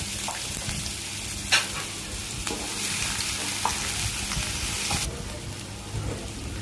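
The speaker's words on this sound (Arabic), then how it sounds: "قبل ما تبتدي تحمر نكون جاهزين وننزل بالفلفل الرومي" Bell peppers fry and sizzle in a pan, with a steady close hiss broken by occasional clinks and scrapes as they are stirred, while cooking for Alexandrian sausage and liver; no one speaks.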